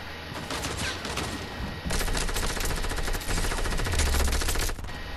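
Rapid automatic gunfire from the Fortnite video game plays as dense bursts of shots, loud and continuous across most of the stretch, with no voices.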